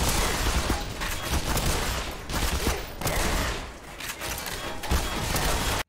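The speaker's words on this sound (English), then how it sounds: "Who are they shooting at? Are they just shooting at me?" Gunfire in the shooter game Black Mesa: Blue Shift, dense bursts of rapid automatic shots overlapping with booms and impacts, loud and continuous for several seconds, no talk.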